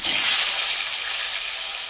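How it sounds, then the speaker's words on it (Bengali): Pointed gourds dropped into hot mustard oil in a pan for dolma, giving a loud, steady, close sizzling hiss that holds evenly for a couple of seconds. "এবার এই তেলের মধ্যে পটলগুলো দিয়ে দেব।"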